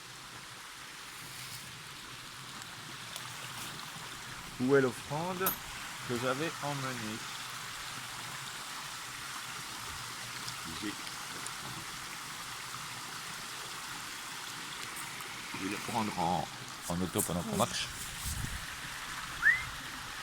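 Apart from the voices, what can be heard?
waterfall and flowing stream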